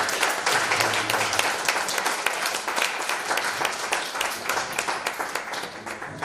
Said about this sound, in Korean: 격려의 박수.